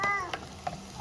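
Tomatoes sauté in a hot pan, a brief, soft sizzle and stir with a few light clicks, heard close up.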